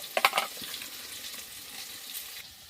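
Garam masala frying in a pan, a few sharp crackling bursts up front settling into a quieter, steady sizzle with faint stirring, close and without talk.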